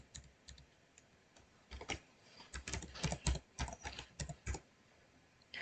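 Bursts of keystrokes on a computer keyboard while an email address is entered, quick irregular clicks close to the microphone with short pauses, no talking.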